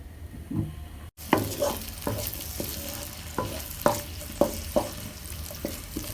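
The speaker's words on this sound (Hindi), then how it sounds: "मीडियम फ्लेम पे हम इसे 2 मिनट के लिए भूनेंगे" Onions and tomatoes fry in oil on a medium flame for masala pasta; after a brief cut, regular spoon strokes scrape the pan over a constant nearby sizzle.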